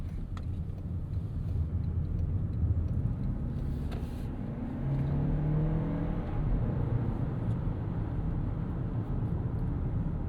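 A 2026 Toyota Crown Platinum sedan with T24A turbo hybrid engine under throttle, a subdued, steady engine hum and road rumble from inside the cabin, rising slightly midway, with no one talking.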